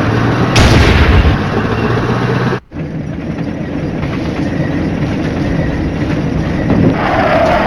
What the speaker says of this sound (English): Uh-oh, enemy artillery striking us right there.